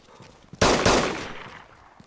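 An SKS rifle fires in the DayZ video game, two sharp, loud shots in quick succession with a short fading tail, no voices.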